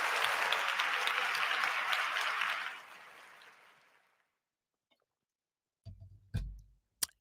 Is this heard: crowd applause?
yes